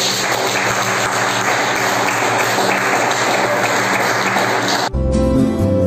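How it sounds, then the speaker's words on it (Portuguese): A church congregation applauds steadily, a loud continuous wash of clapping that cuts abruptly into music near the end. "As palmas exaltam o Senhor."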